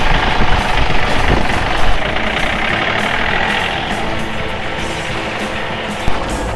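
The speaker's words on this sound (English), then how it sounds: "Just listening to that idle on 6 cylinders just makes me mad." A V8 408 crate engine idles roughly while running on only six cylinders, a loud, steady, rumbling drone with uneven pulses close by in a shop, with no talk.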